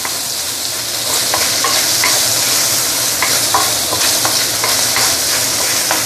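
Marinated pork stir-fries in a wok with pork lard, hissing in a loud, constant high sizzle, with repeated scraping clicks from stirring cutting through it.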